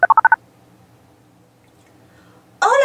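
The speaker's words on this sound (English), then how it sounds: "Boots can call Giant Crane on his truck phone." Five quick touch-tone beeps from a truck phone being dialed in a cartoon, crisp and close, followed by a long quiet pause before a rising tone begins at the end.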